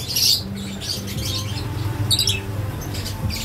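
Pet lovebirds chirp and squawk indoors, short high bright calls coming in a couple of bursts over a low steady room hum.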